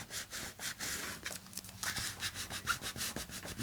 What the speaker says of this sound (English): I think I want just to give this a little more smoothing